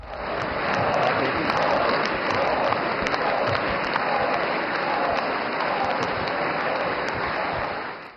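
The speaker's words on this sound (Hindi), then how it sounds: "संसद भवन के अंदर मौजूद एनडीए के सभी सांसदों ने पीएम मोदी का खड़े होकर ताली बजाकर स्वागत किया।" NDA MPs stand and applaud inside Parliament House, a loud, dense and sustained round of clapping from a large group that holds steady for about eight seconds before fading at the end.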